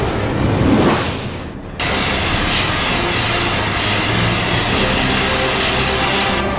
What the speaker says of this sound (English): Fighters ID'd as Yak 141 Freestyles.